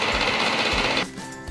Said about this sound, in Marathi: क्रीम फेटत आहे।